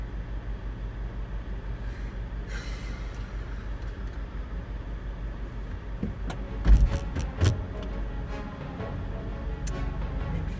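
A stuck car sits in a ditch with its engine running low and steady in first gear, then a few sharp clunks and knocks as it tries to climb over a ridge and drive out.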